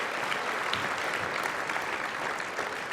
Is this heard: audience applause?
yes